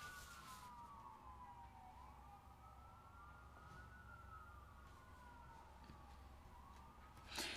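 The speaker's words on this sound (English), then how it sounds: "Sirens are going off." Emergency-vehicle siren wailing outdoors at a steady distance, its rising and falling tone sweeping on and off with a low rumble of traffic underneath and no speech.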